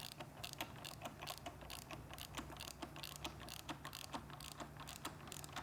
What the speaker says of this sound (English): Now with our 17mm socket, we want to tighten